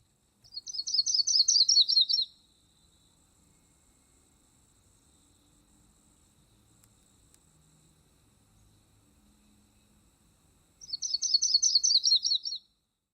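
A yellow-rumped warbler sings two short, sweet, rapid trilled warbles about two seconds long each, separated by near-silence, clear and fairly close.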